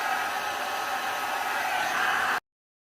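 A heat tool blows a steady, close airy roar over epoxy on a spinning tumbler, then cuts off abruptly.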